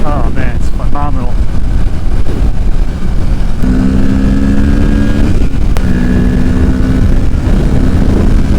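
A 2023 Kawasaki Ninja 650 motorcycle engine climbs through the revs toward redline while riding, a loud droning roar under heavy wind rush, with rising tones shifting as gears change.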